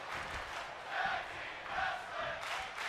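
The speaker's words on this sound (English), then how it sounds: "The crowd chanting tag team wrestling" Arena crowd in WWE 2K25 chanting in a rhythmic, pulsing cadence during a tag team wrestling match, a distant, roomy roar without commentary over it.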